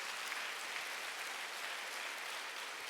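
Brief, quiet applause from a church congregation during a Wednesday worship service, a soft even patter of many hands lasting a few seconds with no talking.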